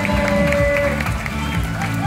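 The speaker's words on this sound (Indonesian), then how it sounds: "Tepuk tangan semua." Audience applause and cheering at a dolphin show, a busy crowd clapping steadily with scattered whoops, mixed with music and voices nearby.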